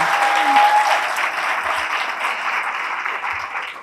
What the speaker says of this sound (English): Please give them all a round of applause because they have been phenomenal.